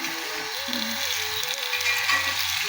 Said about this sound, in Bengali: আমি আলুটা তো ভাজিনি, এবার আমি কষাতে থাকবো এটা